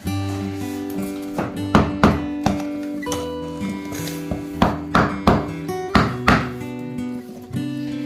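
New floor being hammered into place at home, a series of loud, sharp wooden knocks spaced irregularly about half a second to a second apart, close up, with a low hum underneath.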